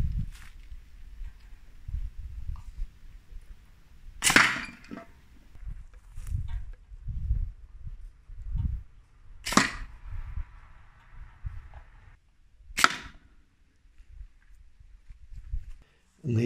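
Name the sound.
homemade fletched darts shot from compound pulley slingshot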